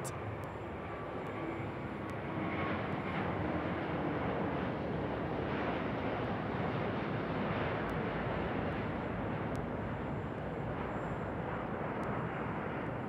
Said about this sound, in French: Aux commandes de cet avion qui nous arrive de par la droite, l'Airbus A350-1000